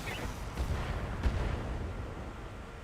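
Precision strike weapon fire in the BattleTech mech game: a couple of heavy booming impacts, the loudest near the middle, over a dense rumbling battle bed.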